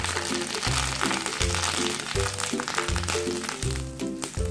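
Hissing, crackling sizzle of 10 to 12 curry leaves hitting hot oil for a tempering for achari raita, steady and close, with rhythmic background music underneath.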